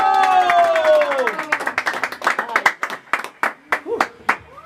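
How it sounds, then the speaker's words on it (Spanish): Scattered, uneven clapping at a birthday party with a youth mariachi band, beginning under a sung or voiced note and thinning into separate sharp claps near the end. "Y el aplauso bien bonito."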